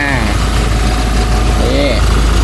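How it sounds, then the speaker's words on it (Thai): A used single-cab pickup truck with low mileage idles steadily, its engine a smooth, even hum throughout while someone talks over it. "เครื่องยนต์เดินนิ่งๆนี่ครับ"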